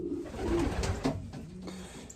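Young 2022 racing pigeons coo softly inside a loft, giving low, throaty calls over about two seconds, with light rustling and movement nearby.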